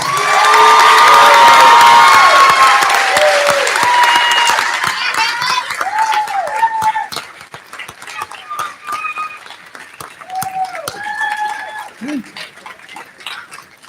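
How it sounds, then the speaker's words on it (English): A crowd at an 8th grade recognition night bursts into cheering and shouting with clapping, loud at first and then thinning into scattered yells and chatter. "Let's give them a big round of applause."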